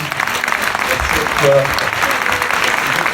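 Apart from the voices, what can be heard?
audience applause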